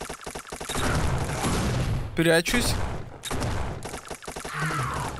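Gunfire rattles in the zombie shooter video game Zombie Rampage Shooter Frenzy. Bursts of shots mix with game sounds under a player talking.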